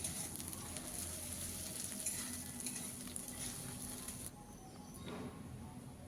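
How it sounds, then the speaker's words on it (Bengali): Garlic, chilli and ginger paste sauté with fried onions for a masoor dal with egg, giving a faint steady sizzle and crackle throughout. It quietens suddenly partway through. "এগুলো পেঁয়াজের সঙ্গে একটু কষিয়ে নিচ্ছি যত সময় না কাঁচা গন্ধটা যাচ্ছে।"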